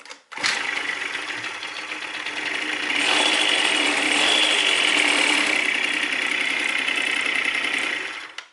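A Yamaha moped fitted with a replacement ignition switch unit starts and runs, its small engine buzzing steadily and close, growing slightly louder midway before settling, with no talk over it.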